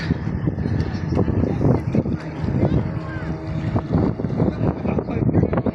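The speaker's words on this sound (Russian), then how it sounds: "Много моторных лодок." Motorboats on the Don River near the crowded summer beach at Pukhlyakovsky, Rostov region, on a hot day. A continuous engine drone carries under gusty wind noise on the microphone.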